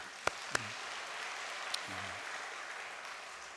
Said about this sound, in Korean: 감사의 박수를 한번 보내겠습니다